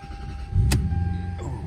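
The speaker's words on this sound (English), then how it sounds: "Oh, turn the car on." An older Japanese car's engine cranked with the key, a brief whirring start and settling hum lasting under two seconds, close and fairly loud.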